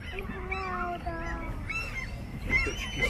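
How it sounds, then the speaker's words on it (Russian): Ducks and gulls calling on the water in a Saint Petersburg park, with harmonic honks and quacks repeating over steady outdoor background noise, fairly close. "Уточки!"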